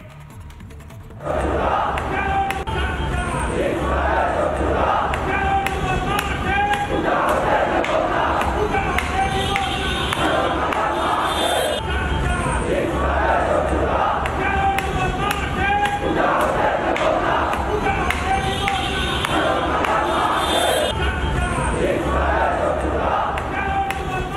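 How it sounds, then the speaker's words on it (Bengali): Large protest crowd in Uttara, Bangladesh chanting slogans in loud, rhythmic call-and-response bursts that repeat steadily throughout, massed voices filling the space with a continuous roar. "সেই এলাকায় কি স্লোগান উঠছে একবার দেখি"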